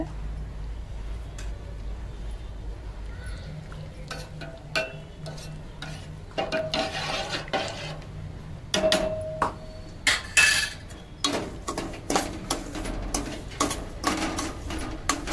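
Semolina (rava) being stirred and roasted in a pan, a scraping spoon and scattered clinks against the metal over a low steady hum, the stirring growing busier and louder in the second half.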